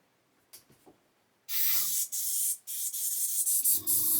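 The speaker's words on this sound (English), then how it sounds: "we'll get the airbrush, put the compressor on, and we'll check my pressure" An airbrush sprays paint with its compressor running while detailing the engine of a 1/8 scale Pocher Lamborghini Aventador model, a loud close hiss in several bursts broken by short gaps, after some faint handling clicks.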